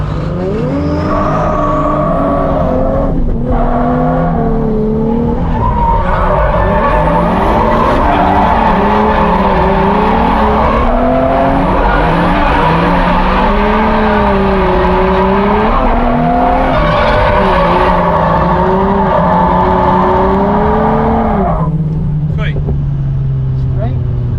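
A drift car on a training session slides with long, wavering tire squeal over a loud, revving engine that rises and falls continuously, close and sustained, with a voice talking over it.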